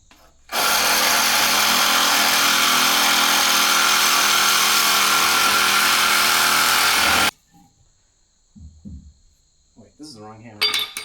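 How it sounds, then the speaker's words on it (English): A loud, steady grinding whine runs for several seconds as a grinder cuts through a metal bolt during heavy equipment repair, then stops abruptly, followed by a few quieter clanks. "I'm gonna cut that bolt short with the grinder"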